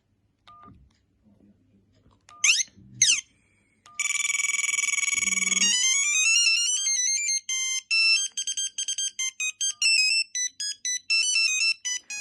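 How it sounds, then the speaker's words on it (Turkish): A Sony Ericsson T-100 mobile phone cycles through ringtones: a few short beeps, then a loud, continuous electronic tone, followed by a choppy melodic ring of rapid pulses. "bu şekilde zil sesi vardı bu telefonun işte gördüğünüz gibi"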